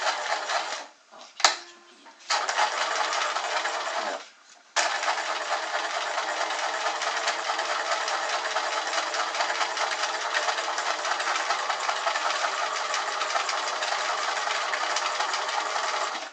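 A sewing machine hemming stretch fabric starts with a few brief stops, then runs loud, close and unbroken for over ten seconds with a steady motor drone.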